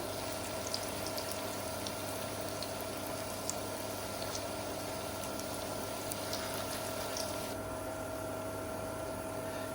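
Raw banana pakoras frying in a pan of hot oil at medium heat give off a faint, steady bubbling sizzle with scattered small crackles, heard alone without any talk.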